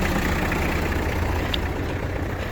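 Kubota GT-3 mini tractor engine idling smoothly, a steady low diesel rumble close by, even and continuous with no revving.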